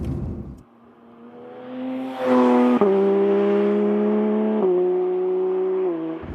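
A Porsche 992 GT3 with its 4-litre naturally aspirated flat-six revs up and holds a loud, strained tone, the pitch climbing in steps as gears change, close by.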